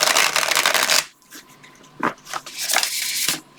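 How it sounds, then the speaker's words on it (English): Little Wizards Tarot cards with purple edges are shuffled close up: a riffling flutter for a second, a pause, then several more brisk bursts of card shuffling. "Has a nice shuffle."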